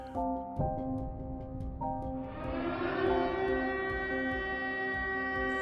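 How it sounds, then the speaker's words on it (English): A wailing air raid siren in wartime Ukraine rises and holds a steady harmonic tone, with a rumble of background noise beneath it. "Training to the sounds of air raid sirens and explosions"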